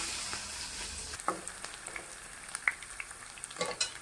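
Garlic is frying in hot sesame oil for a mulberry pickle. Quiet, close sizzling is broken by a scatter of small crackles and pops, with a soft spattering burst near the start before it settles into faint, irregular frying.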